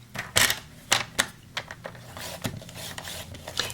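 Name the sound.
scoring a line on cardstock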